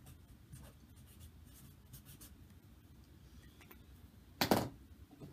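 A pen writes a baseball player's name on a tabletop game card, giving light faint scratching strokes followed by a brief louder knock or tap near the end, close and quiet with no talking.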